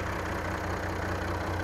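A Cummins 8.3 liter diesel engine idles in a Kenworth T300 truck with a steady, close, low rumble that holds an even, unbroken throb the whole time.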